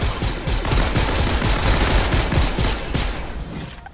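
Rapid video-game gunfire from a Fortnite match, a dense continuous burst of loud automatic shots and bangs filling the whole moment with no talking.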